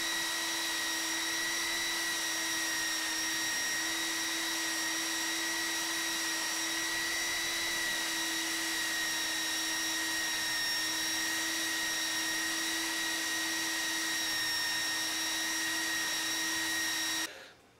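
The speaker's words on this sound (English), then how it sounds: "I can do this on the table saw, or I can do it with the belt sander." A belt sander runs continuously with a steady, high-pitched motor whine and hiss, close and unbroken, cutting off abruptly at the end.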